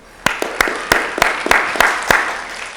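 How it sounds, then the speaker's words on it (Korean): A small group claps on a Korean crypto market talk show, a handful of sharp, sparse claps spaced irregularly over a few seconds, close and fairly loud. "우리 모두 박수 한번."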